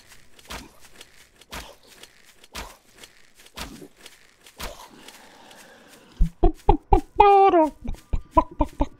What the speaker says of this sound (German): Der Huhn ist unterwegs.